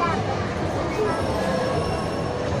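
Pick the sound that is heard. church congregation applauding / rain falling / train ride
train ride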